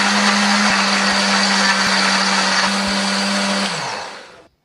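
A blender grinds shallots, garlic, red curly chillies and a little water into a sambal paste. Its loud, steady whir runs continuously for about four seconds, then winds down to a stop.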